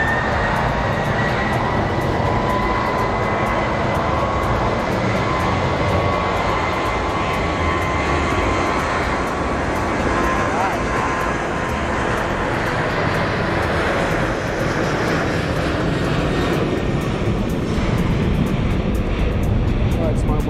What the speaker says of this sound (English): Now full power takeoff.